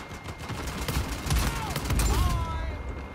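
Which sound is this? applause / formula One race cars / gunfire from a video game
gunfire from a video game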